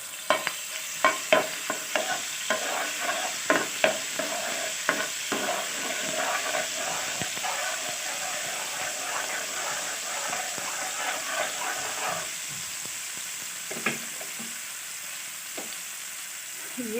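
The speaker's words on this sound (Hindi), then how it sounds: "ये लहसुन अदरक का पेस्ट डाल दिया है।" Garlic ginger paste sizzles and crackles in hot oil in a pan for a chicken cheese sandwich, with frequent stirring scrapes and steady frying hiss, the bursts thinning out toward the end.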